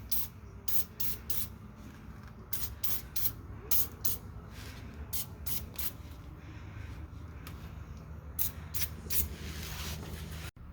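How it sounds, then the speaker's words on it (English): PB Blaster penetrating oil sprayed under a 2000 Ford Expedition from an aerosol can, a faint hissing in many short spurts of varying length, repeated throughout with no talking. "I'm gonna probably start by just soaking everything with some PB Blaster."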